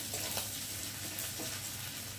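Onions fry in a pan for a spicy bhetki fish curry, giving a brief, steady, hissing sizzle without pause at moderate volume.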